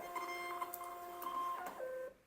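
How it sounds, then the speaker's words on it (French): A VEVOR inkless thermal printer feeding out a shipping label, with a short whirring, whining motor run of about two seconds that ends with a click, close and fairly quiet. "Et maintenant, je réimprime le bon d'expédition."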